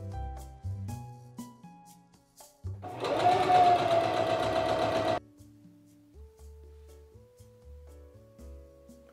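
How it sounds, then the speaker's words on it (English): A sewing machine stitches fabric for a Joker costume from The Dark Knight, a loud, steady mechanical whir lasting about two and a half seconds in the middle, with music playing before and after. "Is basically just stitch it up and then stitch it on."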